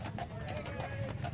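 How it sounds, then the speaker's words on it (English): Clydesdale horses walk in a parade, their hooves clip-clopping in a steady, close rhythm on pavement, with crowd murmur and voices mixed underneath. "They are beautiful horses."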